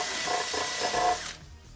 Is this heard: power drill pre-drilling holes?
yes